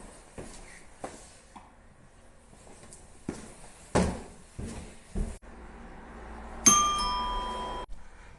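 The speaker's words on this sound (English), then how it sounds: "Now let's test the doorbell." A Nest Hello video doorbell wired to an existing 220V chime sets it off: a bright, ringing chime tone rises near the end after some clicks and knocks, then slowly decays, with no talk over it.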